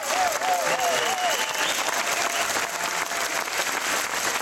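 An audience at a championship breaks into sustained, dense applause throughout, loud and even, with a faint voice briefly audible near the start.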